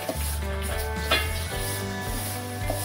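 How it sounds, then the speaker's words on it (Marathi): Garden cress seeds (halim) dry roasting in a pan: soft, continuous sizzling and grainy rustling of the seeds being stirred, fairly quiet and close, with a faint steady hum underneath. "आता आपण हलीम भाजून घेणार आहोत"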